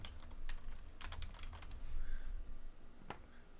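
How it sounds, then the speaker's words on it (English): Keys on a computer keyboard tapped in quick irregular bursts as a search term is entered, soft and close with no talking. "use the search function and then type in attention"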